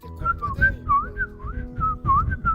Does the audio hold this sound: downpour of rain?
no